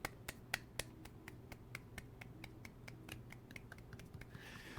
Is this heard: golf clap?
yes